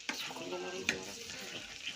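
Food frying in a pan at home as it is stirred, a soft close sizzle with a couple of light utensil scrapes against the pan, fairly quiet and without talk.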